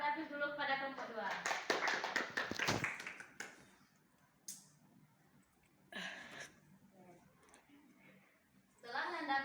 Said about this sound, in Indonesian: Beri aplaus dulu kepada kelompok 2.